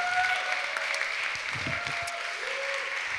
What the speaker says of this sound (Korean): 자리에서 일어나실 때 박수 한번 부탁드리겠습니다.